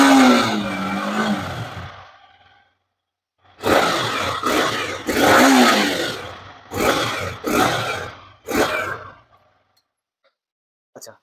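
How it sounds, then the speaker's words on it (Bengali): A Yamaha R15M motorcycle engine starts and then revs in several sharp throttle bursts separated by short pauses, loud and close, with no talking. "R15M এর ক্ষেত্রে আপনারা স্টার্ট দেবো গাড়িটা, সেম সাউন্ডটা আপনাদের শুনিয়ে দেবো R15M এর"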